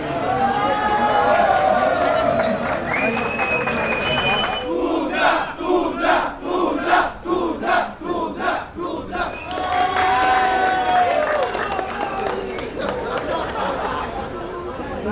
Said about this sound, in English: This is actually the biggest crowd I've ever had in a signing session.